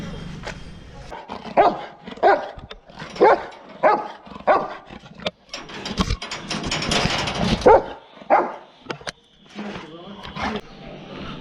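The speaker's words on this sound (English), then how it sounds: "My cousin's sister has a dog, Bruno, whom I'm so much fond of." Bruno, a dog in suburban Kolkata, barks in a series of loud, close, repeated barks with short pauses, and people talk in between.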